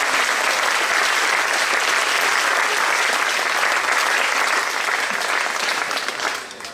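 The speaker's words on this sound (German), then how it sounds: "Spenden Sie einen Applaus." A crowd applauds the sponsors at a Schwörtag festival gathering in Reutlingen, steady dense clapping throughout, loud and continuous before trailing off slightly at the very end.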